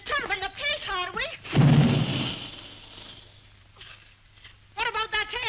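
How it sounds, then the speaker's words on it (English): An air gun booms in a 1941 comedy film: one deep, heavy boom with a rumbling tail between stretches of people talking. "What about that air gun of yours booming all day and night?"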